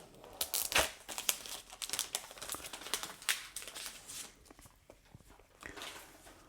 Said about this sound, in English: everybody that loves electronics loves the sound of that plastic coming off